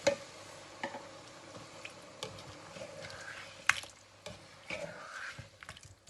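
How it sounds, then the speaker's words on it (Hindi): Water poured into a pot of home-cooked curry to make gravy gives faint, soft liquid splashes and drips with a light sizzle, quiet and close, with occasional small clinks and no talk. "ग्रेवी के लिए मैं इसमें डाल रही हूँ पानी"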